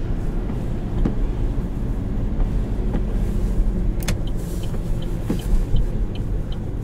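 A 2011 Saab 9-5 Turbo4 with about 250,000 miles drives along, with a steady engine and road rumble heard from inside the cabin, plus faint rattles and clicks.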